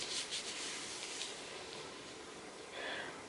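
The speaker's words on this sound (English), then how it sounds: "So I just scrub it in." Blue hair dye is scrubbed into hair by hand, giving a soft, continuous close-up rubbing and hissing friction with a slightly louder swish near the end.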